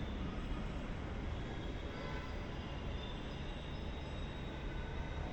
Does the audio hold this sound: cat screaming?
no